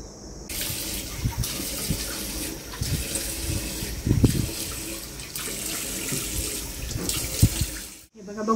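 Tap water runs steadily into a sink while a face mask is rinsed off, with a continuous splashing hiss that stops abruptly near the end, and no talking.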